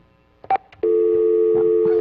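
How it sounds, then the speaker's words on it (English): A telephone at a station sounds an incoming call on another line: two short tones, then a steady, loud sustained tone that carries on alone to the end. "Somebody's calling the station."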